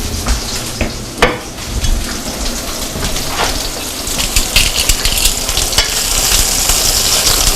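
Pork tenderloin steak searing in a hot pan, a loud dense sizzle and crackle that runs steadily throughout with scattered pops and a brief clatter early on, no talking.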